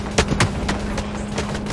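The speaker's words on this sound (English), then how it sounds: "Just shooting at me." Gunfire in a Ring of Elysium squad battle, a few sharp reports at irregular spacing over a steady background hum, mid-distance and moderately loud.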